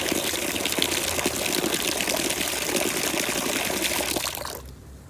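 Water pouring steadily into a watering can during camper van tank cleaning, a full, splashy stream running for about four seconds before cutting off abruptly into quiet.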